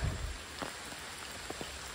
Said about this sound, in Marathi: पावसानं परत एंट्री केला नाही बघा, पाहू शकताय